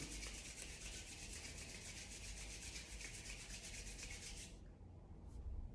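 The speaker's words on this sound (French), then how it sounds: "J'inspire, je frotte les mains." Hands rubbing together briskly and continuously for about four seconds, a soft close dry swishing during a relaxation exercise, then stopping into quiet.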